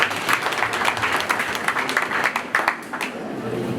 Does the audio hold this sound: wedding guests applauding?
yes